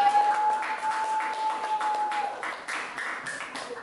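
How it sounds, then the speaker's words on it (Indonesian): A classroom group gives scattered applause for a student team, moderately faint and brief. A steady electronic tone runs under the claps for the first half. "Berikan tepuk tangan dulu untuk kelompok NEPA."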